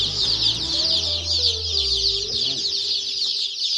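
A brooder full of baby chicks gives off a dense, constant chorus of high peeping, close and steady, with a low rumble underneath.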